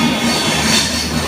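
The Dhaka–Kolkata Maitree Express moves through Dhaka airport railway station in Bangladesh, a loud steady rumble of railcars with faint squealing wheel tones, close by and brief, with no talk.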